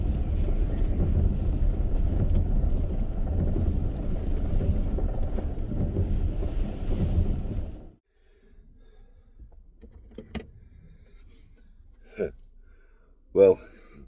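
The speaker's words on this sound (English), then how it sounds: "it's blowing a bit of a hoolie up here, and it's wet" Strong wind roars steadily against the microphone outdoors on a wet hillside in North Wales for about eight seconds, then cuts to near quiet with a few sharp knocks and bumps.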